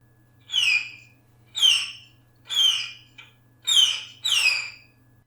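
A violin imitates a bird: five bright, descending chirping calls in a steady rhythm, each a short high sweep like a bird's cry, played clearly with a faint low hum beneath.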